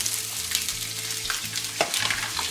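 Sliced onions and peppers frying in a hot pan for fajitas, giving a constant close sizzle with a sharp scrape of stirring near the end and no speech.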